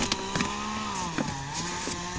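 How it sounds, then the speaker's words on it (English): A chainsaw runs in the background as a neighbour cuts down a tree, giving a steady engine drone with small pitch wavers, fairly distant and moderate in level. "sorry for the background noise if you guys can hear the chainsaw running"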